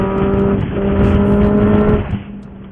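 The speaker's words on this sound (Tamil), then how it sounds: "வண்டி வந்து அந்த சவுண்டுக்கும் அந்த பிக்கப்பும் தரமா இருக்கு" Benelli TNT 600i inline-four motorcycle engine and exhaust hum steadily while riding through traffic, a continuous loud drone that eases off toward the end.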